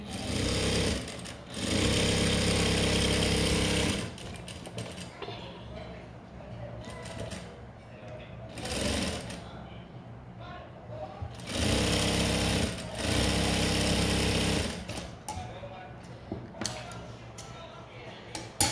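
Short and long bursts of a sewing machine stitching a blouse and its lining recur steadily and loudly, separated by pauses where someone speaks.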